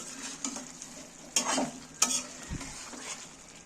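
Chicken badam gravy with fried onions sizzles in a pan as a spatula stirs it, with a few distinct scraping strokes over a continuous hiss.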